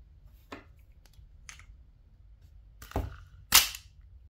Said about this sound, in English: And then we put the plastic BB in here. And then we load up the shells.